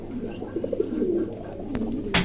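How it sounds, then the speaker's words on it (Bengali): A pair of long-face almond pigeons and other fancy pigeons coo in soft, repeated rolling calls close by, with a short sharp knock near the end. "এখানে 2 জোড়া কবুতর আছে"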